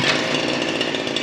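A CG411 heavy-duty grass cutter engine running at high revs, a loud, close, continuous buzzing drone with a slight wavering flutter and no speech.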